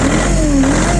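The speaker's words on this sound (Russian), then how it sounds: "Отлично набирает обороты" A four-wheel-drive mini tractor engine revs briefly, a steady loud mid-pitched drone with a rising and falling whine, close by and with no voices over it.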